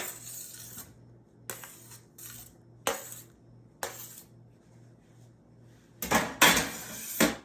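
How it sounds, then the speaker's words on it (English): Chopped cucumbers being mixed into tzatziki sauce in a bowl: a run of short, separate clinks and scrapes of a utensil against the dish, spaced out at first, then a denser, louder flurry of stirring at the end. "Give that a good mix."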